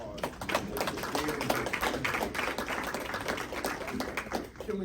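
An audience at a blues and healing event claps in a looser, scattered round of applause. Individual hand claps stand out as distinct taps at a moderate level, and no talk is heard over them.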